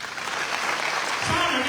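Audience applause at an inspirational talk, a dense steady patter of many hands clapping that swells slightly toward the end, loud and close with no voices over it.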